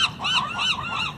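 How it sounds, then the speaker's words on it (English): Seagulls on the Oregon coast call out in a rapid series of about four wavering, nasal cries, fairly close and with no talk over them. "don't feed the seagulls"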